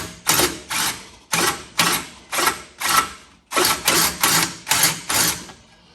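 A half-inch electric impact wrench fires a dozen short, loud hammering bursts in quick groups on a Mack CL713 truck during a battery box install, with brief pauses between groups and no talking.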